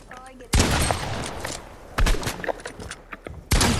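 Double-barrel shotgun blasts in the video game Fortnite, three loud booming shots about a second and a half apart, each followed by a rumbling decay, with gameplay noise and faint chatter between them.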